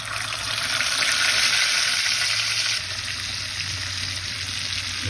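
Rohu fish wrapped in gourd leaves sizzles loudly in hot oil, a steady close frying hiss that eases slightly partway through, with no talking.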